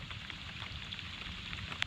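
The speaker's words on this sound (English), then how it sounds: "As you can see, it's still raining." Steady rain falls outdoors on a paddling trip down the Cape Fear River near Wilmington, a constant close hiss with soft patter throughout and one brief sharper tap near the end.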